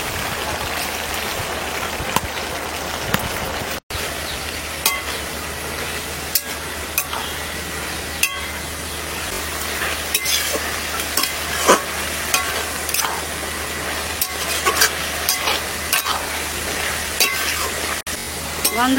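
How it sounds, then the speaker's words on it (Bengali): Greens and a fish head stirred and frying in a pan over a village cooking fire, a steady crackling sizzle with repeated scraping stirs close by, no voices. "ভালো করে নেড়ে নেবো।"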